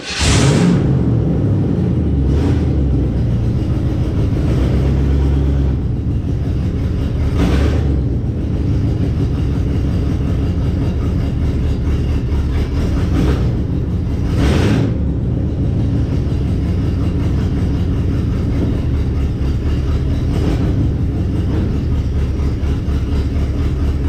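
A 1958 GMC pickup with a TH350 B.O.P. transmission idles loud and close with a steady low engine rumble, occasional surges and clunks marking shifts through the gears, no talk.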